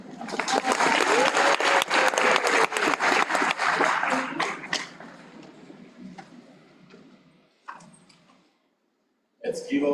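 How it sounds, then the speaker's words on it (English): An audience at a STADIO Waterfall graduation ceremony applauds the teachers with loud, dense clapping that gradually thins and dies away into near quiet, with a few faint noises after. "Let's give our teachers a round of applause."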